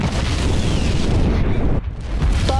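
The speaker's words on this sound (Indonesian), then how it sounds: "menghindar dari ledakan bus tersebut" A bus explodes in an anime, a dense, loud booming blast that rumbles continuously, briefly drops away, then surges again with crackling debris.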